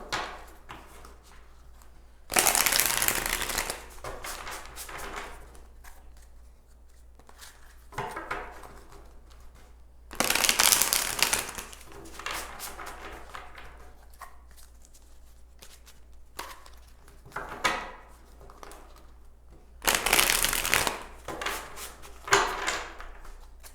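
Light Seers tarot cards being shuffled by hand in three loud bursts of riffling and sliding, each a couple of seconds long, separated by quieter stretches of faint handling noise.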